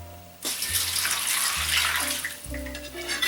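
One liter of water pours in a steady splashing stream, close by, with a few brief shifts in the flow as it fills a container for brining kimchi cabbage.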